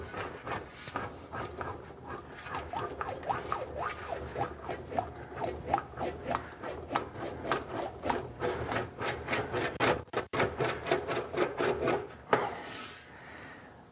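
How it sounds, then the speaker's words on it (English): A metal gas tank nose is rolled back and forth on an English wheel, making a steady rhythmic rubbing and squeaking with regular strokes, close and fairly quiet. "the English wheel will get it even smoother yet"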